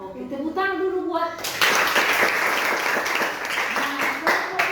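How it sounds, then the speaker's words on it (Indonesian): A children's class at a school bursts into applause after a short stretch of talk, and the dense clapping continues steadily to the end. "Oke, tepuk tangan dulu buat."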